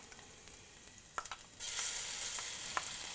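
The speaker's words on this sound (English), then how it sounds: "We got a good sizzle." Soft, steady sizzling of garlic frying in a hot pan, a few faint crackles, then a louder, brighter hiss swelling up partway through.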